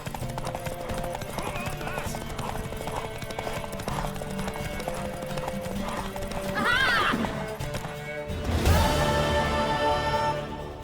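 Steady clip-clopping hooves of a horse in The Witcher 3: Wild Hunt over a busy game soundscape, then a loud neigh near the end, with faint voices underneath.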